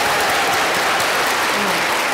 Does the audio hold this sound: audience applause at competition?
yes